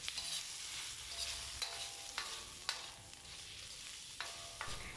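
Onions, garlic and meat ingredients being stirred and sautéed in a hot pan for pancit canton, a steady sizzle under repeated scraping strokes of a spatula, with occasional sharper clinks; no talking.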